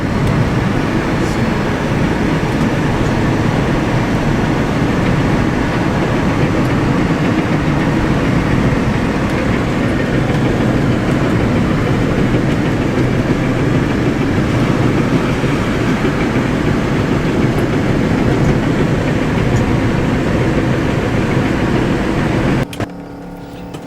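Inside a converted electric Saab driving in fourth gear on a park road, a loud steady rumble of road and wind noise runs throughout with a faint motor whine, ending abruptly at the close.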